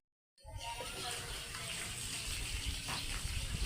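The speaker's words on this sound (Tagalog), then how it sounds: "yung poso na aming pinagkukunan ng mga tubig" Water gushes steadily from a hand pump well used as a household drinking source, a continuous splashing rush that starts abruptly and runs unbroken to the end.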